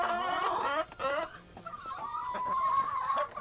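Backyard chickens, unsettled by the clock change, cluck and call in a restless run of overlapping squawks near by, with one drawn-out tonal call near the end.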